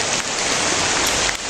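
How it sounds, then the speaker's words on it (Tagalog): Steady rain falls on a surface as a dense, even hiss of drops, close and continuous, with no voices. "Lumakas ng ulan ba?"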